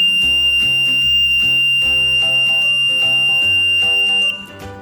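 Buzzer on a KY-026 flame sensor module sounding a steady electronic tone with a rapid pulsing pattern, loud and close, alone with no talk, cutting off near the end.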